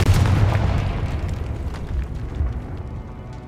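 A Confringo fire spell bursting in Hogwarts Legacy, a single deep booming blast that rolls away into a fading rumble over a few seconds.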